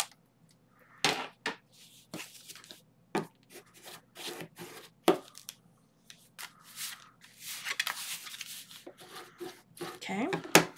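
Paper craft pieces for a spooky photo wallet are burnished down by rubbing, heard as short dry scratchy strokes in irregular bursts, close and fairly soft, with quiet gaps between them.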